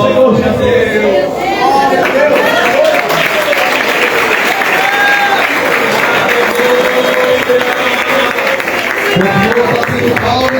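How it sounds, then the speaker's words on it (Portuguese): A congregation in a church claps continuously and loudly throughout, the dense applause mixed with shouting voices and a preacher speaking over it. "Continua batendo palmas e dando glória, batendo palmas e dando glória."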